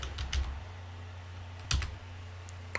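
A search typed on a computer keyboard: a quick run of close keystroke clicks over a steady low background hum, with no talking.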